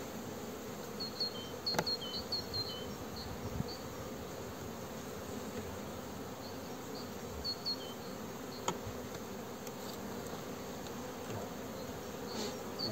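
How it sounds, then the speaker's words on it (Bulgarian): Dense, steady buzzing of many honeybees close by on a hive, a continuous swarming hum with occasional louder passes of individual bees. "почти целият корпус е покрит с пчели"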